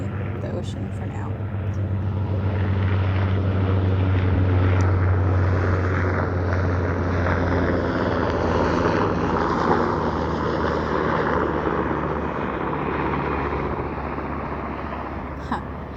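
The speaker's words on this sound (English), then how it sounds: "I guess I'm gonna pause because this helicopter is super loud" A loud military helicopter passes low over the ocean near San Diego, a heavy continuous rotor and engine roar with a deep throbbing low end that swells and holds for the whole stretch, no talking over it.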